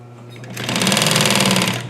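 Sewing machine stitching double welt cord into home-décor fabric, a steady close, loud mechanical whir with rapid needle pulses that starts up after a brief quiet lead-in and runs continuously to the end.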